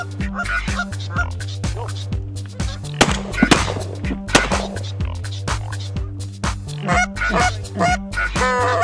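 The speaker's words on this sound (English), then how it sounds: "A threesome of geese marks the beginning of the hunt." Geese honk repeatedly and loudly amid overlapping bursts of sharp shotgun reports during a late-season snow goose hunt in Ontario, with a dense, busy layer of calls throughout.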